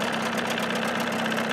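A 1979 Evinrude 35hp outboard motor fitted with sound deadening idles steadily up close, a continuous even mid-pitched rumble with a rapid regular pulse and no other sounds.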